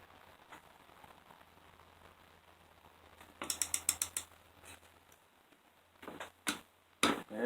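Torque wrench on a 5 hp Briggs and Stratton engine rebuild, set to 10 pounds, giving a quick run of sharp clicks in the middle and a few more clicks near the end, close and clear over a quiet background.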